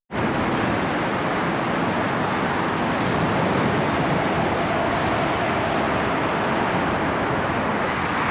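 Steady, loud roar of road traffic beside a main road under a highway, a dense continuous wash with no pauses and no voices.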